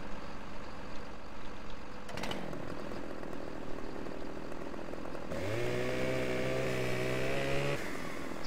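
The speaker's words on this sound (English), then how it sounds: "So maybe if I chainsaw it up a bit." A Farming Simulator 15 chainsaw cuts logs with a continuous loud buzzing engine drone, its pitch rising into a higher strained whine partway through as the blade bites, then dropping back near the end.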